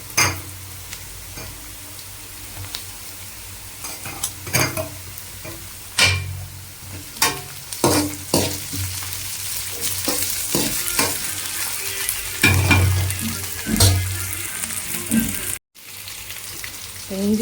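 Ginger garlic paste sizzles in a pan for a homemade chicken kuzhambu, a steady frying hiss broken by repeated sharp clinks and scrapes of a spoon stirring against the metal, close and fairly loud.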